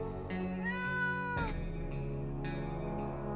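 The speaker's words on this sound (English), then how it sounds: "A cat." A cat meows in the survival video game 60 Seconds, two drawn-out, clear meows with a rising, wavering pitch, moderately close and alone over a quiet game background.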